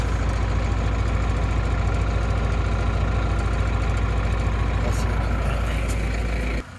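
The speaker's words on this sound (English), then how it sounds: "Masticator right there." New Holland LS190 skid steer running an FAE masticator to mulch manzanita brush and small pines, a loud continuous engine roar with grinding, which cuts off abruptly near the end.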